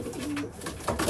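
Pied racing pigeon cock in a widowhood racing loft, cooing close by in a short soft throaty burst.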